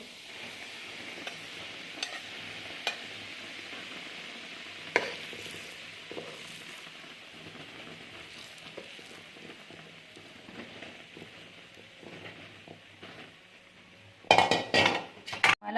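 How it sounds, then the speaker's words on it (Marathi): Roasted flour for methi dink laddu is stirred into hot oil in a pan off the heat, giving soft scraping and faint sizzle with occasional utensil clinks, louder clatter near the end. "हे पीठ आपण यामध्ये मिक्स करून घेणार आहोत"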